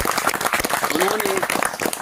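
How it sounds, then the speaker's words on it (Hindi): An audience at an organic-farming talk breaks into dense, steady applause that fills the room, with a voice faintly audible underneath. "एक बार उनके लिए जोरदार तालियां लगाइए"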